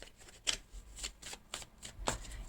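Tarot cards are shuffled and cut into three piles, giving soft riffling swishes and light slaps close by at an irregular pace, quiet and without talk.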